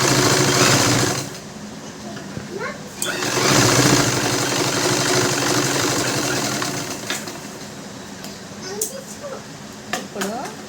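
Sewing machine stitching the lining cloth of a blouse, steady loud running that pauses and restarts with short bursts and clicks near the end.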